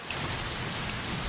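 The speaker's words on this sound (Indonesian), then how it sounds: "melihat Tessa hujan-hujanan pulang dengan jalan kaki karena hati yang patah" Steady, dense rain pours down in a film scene, a continuous close hiss with no voices or breaks.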